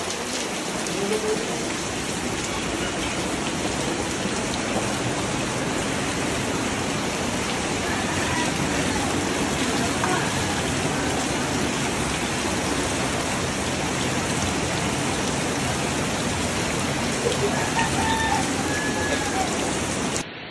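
Heavy rain pours steadily during Typhoon Carina, a dense continuous roar of drops on surfaces that stays loud and unbroken throughout.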